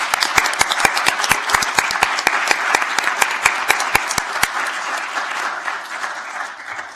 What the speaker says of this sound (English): So I'd like to invite everyone to give them a round of applause.